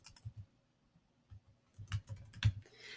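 Short bursts of quiet keystrokes on a computer keyboard come in quick, uneven clusters with pauses between them, close and alone in a silent room.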